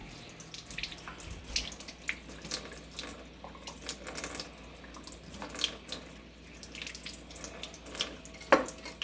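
Tap water runs and splashes over fish fillet knives being rinsed clean after sharpening, a steady faucet stream broken by irregular clinks and splashes.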